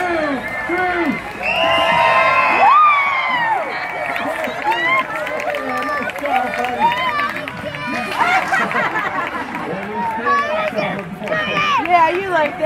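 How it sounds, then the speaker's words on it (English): A group of people cheers and whoops for a dog's big jump over a couch at a dog show, lively excited voices and shouts rising and falling under loud talk throughout. "I want everybody cheering him on"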